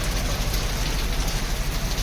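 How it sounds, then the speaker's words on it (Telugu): Heavy rain falls steadily on nearby surfaces outside on the road from Srinagar to Sonmarg, a dense, even patter close and continuous with no voices. "బాగా వాన పడుతుంది."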